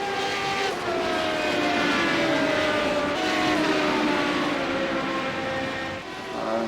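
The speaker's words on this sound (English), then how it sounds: "This Rebellion liveried Radical running pretty smooth." A Rebellion-liveried Radical race car engine drones at steady high revs, its harmonic whine rising and falling slightly through gear changes, loud and close with no talk.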